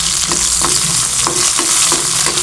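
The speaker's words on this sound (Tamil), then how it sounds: "ஒரு ஏழு சின்ன வெங்காயம் சேர்த்துக்கலாம்" Small onions sautéing in a pan for a Tamil poduthalai kulambu, a loud, close, steady sizzle broken by regular scraping strokes of a spoon, no voices.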